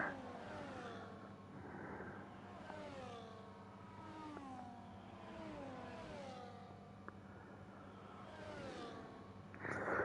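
Several race cars in a sim-racing league event at Saudi Arabia, with Aston Martin and McLaren entries, drive a final lap, their engines rising and falling in pitch through repeated gear shifts as one steady, layered drone with no talking.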